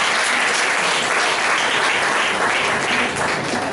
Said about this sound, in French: Applaudis plus fort, applaudis